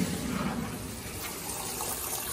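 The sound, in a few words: water flushing through hose from water heater tank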